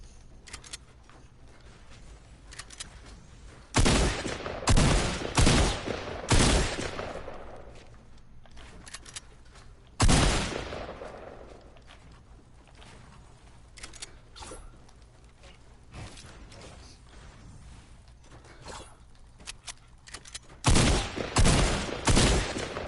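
Bursts of rapid gunfire from the video game Fortnite, several loud volleys spaced apart with quieter game ambience between them.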